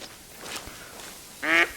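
A single duck gives a loud, clear burst of quacks near the end of a duck hunt, standing out over a quiet outdoor background.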